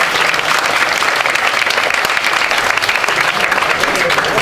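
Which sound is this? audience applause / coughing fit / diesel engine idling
audience applause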